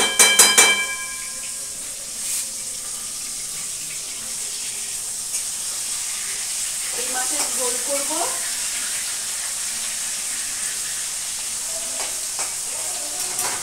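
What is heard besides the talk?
fish frying in a pan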